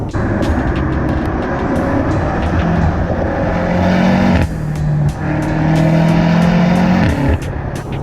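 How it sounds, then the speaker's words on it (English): A BMW M8 Competition engine revs hard through several rising pulls, loud and close, with brief drops between shifts, pops and burbles, and a throaty exhaust note. "the car sounds good. I'll let you hear it again."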